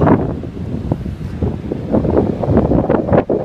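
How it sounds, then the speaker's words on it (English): Strong wind blowing at a camp, loud gusty rumbling buffets the microphone in uneven surges throughout the few seconds. "The wind keeps up blowing us."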